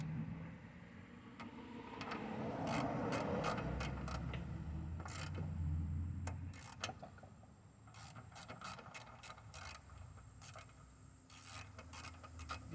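A cheap Harbor Freight ratchet clicks in quick, uneven bursts over faint rasping and scraping while parts come off a Tecumseh TVS90 engine. The clicks sound close but quiet.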